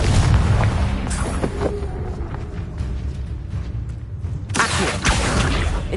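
A Confringo blasting spell in a video game erupts in loud, close booms, a strong blast at the start and another bright burst near the end, with rumbling debris between.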